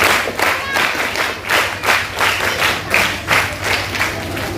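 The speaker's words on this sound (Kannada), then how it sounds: "ಚಪ್ಪಾಳೆ ಮೂಲಕ ಒಂದು ಅಭಿನಂದನೆಗಳನ್ನು" An audience claps at a Bharat Scouts and Guides Karnataka celebration of Swami Vivekananda's birth anniversary and Sankranti. Close, loud applause comes in rhythmic swelling waves, without speech.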